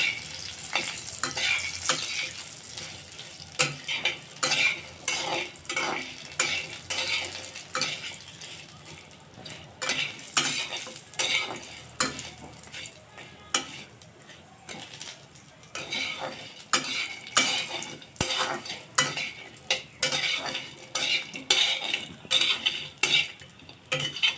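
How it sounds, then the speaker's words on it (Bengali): Lentil dumplings (bori) frying in hot oil for a gourd-leaf dish, with a continuous sizzle broken by frequent sharp clinks and scrapes of a utensil stirring against the pan, close and fairly loud throughout. "বড়িগুলি আমি লাল লাল করে ভেজে নিব"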